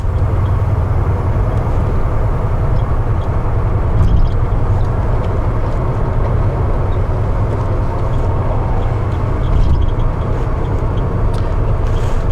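Steady low cabin drone of a 1986 Mercedes-Benz 300E with its 300 gas engine cruising in fifth gear, a constant rumble of engine and road noise with no voices.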